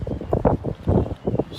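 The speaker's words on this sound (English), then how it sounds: "The wind is blowing. It's really windy right now out here." Strong wind buffets the microphone at a harbour dock, producing loud, gusty low rumbling that surges and fades in uneven bursts.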